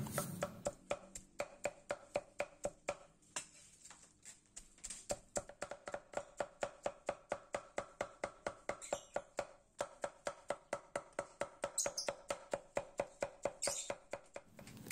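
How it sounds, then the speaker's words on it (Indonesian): A knife chops marlin fish finely on a board in rapid, regular strokes, a close and steady stream of sharp thuds with brief pauses between bursts. "Langkah pertama, ikan marlin kita cincang halus."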